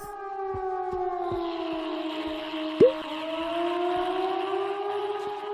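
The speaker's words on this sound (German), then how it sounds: "Kann ich diese Sirene ausmachen?" A civil defense siren wails steadily in the zombie-survival train game Zompiercer, a continuous rising-and-falling tone that holds loud and unbroken across the whole stretch, with no voices over it.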